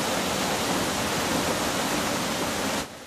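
Rushing floodwater after a storm pours down a mountainside at Tsoutsoura, a dense, loud, unbroken roar that drops off sharply at the very end.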